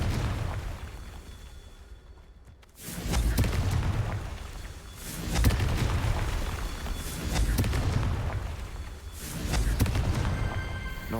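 Fiery blasts from the Confringo spell in Hogwarts Legacy: several heavy, booming explosions in succession, each swelling and rumbling for a couple of seconds, loud and close.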